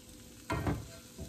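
Onions, ham, garlic and potatoes frying in a pan, a brief stirring scrape over a soft, quiet sizzle, with a second fainter stir just after.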